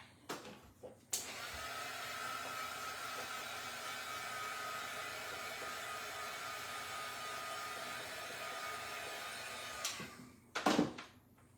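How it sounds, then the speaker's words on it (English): Heat tool switched on to dry wet craft work, a steady loud whooshing blow lasting several seconds, bracketed by clicks and handling knocks before and after. "I might hit it with my heat tool."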